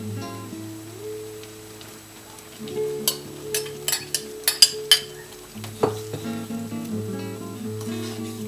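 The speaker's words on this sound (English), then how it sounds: "Next, add the cubed chicken and stir." Cubed chicken being stirred into a pot of dumpling broth, with a spoon clinking and scraping against the pot in a run of sharp knocks over a steady simmer and low background music.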